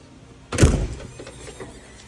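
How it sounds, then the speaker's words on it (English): A power entry step on a 2004 Holiday Rambler Imperial motorhome retracting into the body: a single loud, near thunk with a short mechanical whir, then a fading hum and faint settling rattles. "the power step will go back in"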